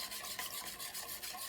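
Coconut pecan frosting being stirred in a pan on medium-high heat, a close, steady scraping and rubbing with a quick repeating rhythm that carries on without interruption and with no talk.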